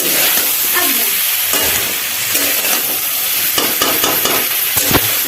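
Chunchudi is stirred while frying in a pan, producing constant loud hissing and crackling up close, dotted with short scrapes and taps from the stirring.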